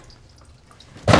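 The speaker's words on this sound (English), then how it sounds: "That's dripping." Water drips from a leaking shower head supply line during a bathroom plumbing remodel. A faint, steady background gives way to one loud, close splash at the very end.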